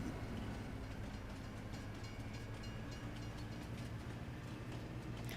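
A train rumbles steadily past on a Swiss mountain map in Farming Simulator 22, a continuous low rolling drone with faint rhythmic rail clatter, alone without talk.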